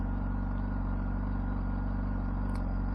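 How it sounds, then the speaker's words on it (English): A Honda CBR600RR 600cc sport motorcycle engine, already warm, idles with a steady, low rumble, close and even, with a faint brief chirp near the end. "it has a nice little rumble to it"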